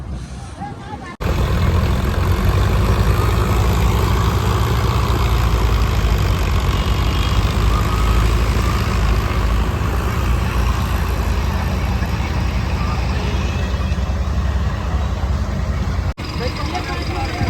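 Several tractors idle in a parking area, a steady low engine rumble running loud and continuous after a brief quieter start, with people talking over it.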